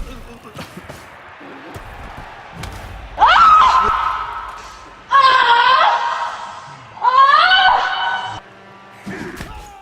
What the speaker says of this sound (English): You can hear the screams coming from the Elves.